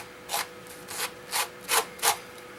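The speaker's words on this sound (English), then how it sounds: "a piece of sandpaper rubbed on the edge will clean it off in a surprisingly nice way" Sandpaper rubs in five short, crisp strokes along the tissue-covered balsa edge of a SIG Cub model airplane, close and fairly quiet with steady spacing.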